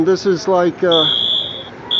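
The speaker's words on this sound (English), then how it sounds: "Somebody just set off the fire alarm." An old fire alarm system in a New York City bus station sounds a steady, piercing electronic tone that cuts off briefly and resumes, with someone talking loudly over its start.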